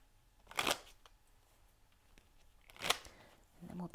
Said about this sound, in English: I'm going to pull you a card from the Lenormand Reverie too.